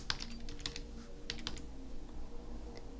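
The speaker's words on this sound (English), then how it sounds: "we're going to type in the child's first name" Fast, light clicks of fingers typing on a computer keyboard, soft and close, in short irregular bursts over a quiet room hum.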